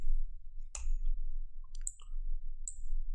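A few sharp, quiet computer mouse clicks pressing an OK button, spaced apart over a low hum in a quiet room.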